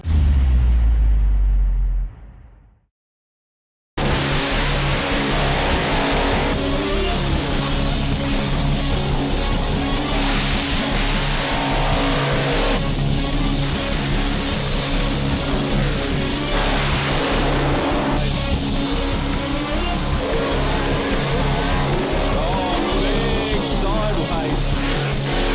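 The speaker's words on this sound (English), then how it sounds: "It's big horsepower, tyre smoking action from the 2008 Central Drag Racing Nationals at Masterson." Big-horsepower drag racing cars at the 2008 Central Drag Racing Nationals at Masterton, a loud continuous engine roar after a brief silence, with rumbling revs and tyre noise, under a voice talking.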